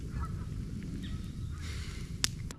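Geese honk faintly in the distance on an evening outdoors, a few soft calls over low wind rumble, with one sharper nearby click near the end.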